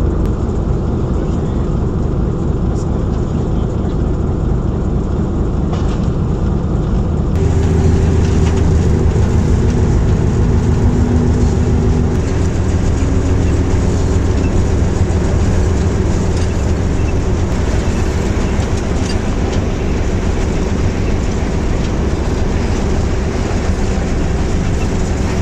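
Hitachi locomotive on the Kohat Express pulling out of Fateh Jang, heard from inside the cab: a steady, loud low rumble and drone of engine and running gear that rises and thickens after the first few seconds and continues without pause.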